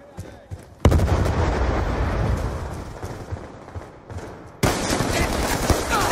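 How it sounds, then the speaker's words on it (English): Heavy gunfire and explosive blasts from a Black Ops 2 Hardpoint match, including an incoming Hellstorm missile strike, burst in loudly near the start and again near the end, with dense rattling fire between. "Friendly Hellstorm missile inbound."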